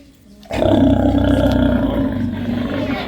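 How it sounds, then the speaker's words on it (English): A loud, deep, rough bark from a South American sea lion starts abruptly after a moment of quiet and rumbles on for a few seconds, close by. "Are you ready to hear her loud South American sea lion bark?"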